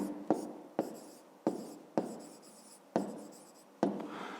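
Pen scratching across paper while working a fifth-grade geometry exercise, written in six short strokes, each starting with a sharp tap and trailing off, close and quiet.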